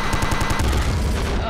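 Rapid gunfire from the video game Nuclear Throne, a fast rhythmic burst of shots that shifts into a denser rattle, loud and continuous over the game's background sound.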